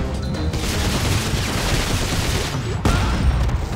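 Dense gunfire from the co-op video game Dead Space 3, a loud continuous burst of shots and booms filling the whole moment, with a brief drop near the end before it resumes.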